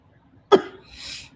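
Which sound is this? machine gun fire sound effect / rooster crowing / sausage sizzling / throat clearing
throat clearing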